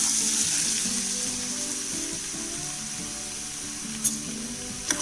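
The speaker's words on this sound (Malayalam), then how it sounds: "അതിലോട്ട് നമ്മൾ കട്ട് ചെയ്ത് വെച്ചിട്ടുള്ള ഉരുളക്കിഴങ്ങ് ഫസ്റ്റ് ഇട്ട് കൊടുക്കുകയാണ്." Cut potatoes fry in hot sunflower oil for a Spanish omelette, a steady bright sizzle filling the pan close up, with a couple of sharp clicks near the end.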